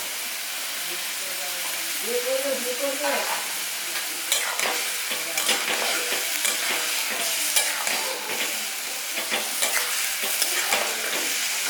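Snails in a pan crackle and hiss steadily as they are stirred and sautéed to dry off their water, with scraping stirs throughout, close and fairly loud, and a voice briefly speaking near the start.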